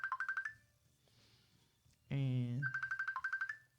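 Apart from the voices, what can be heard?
phone ringing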